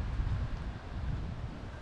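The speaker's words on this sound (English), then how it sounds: "very windy. Cold front's coming through." Low, steady wind from a passing cold front buffets the microphone in a continuous rumble at an RV park in Panama City Beach, Florida, with no voices.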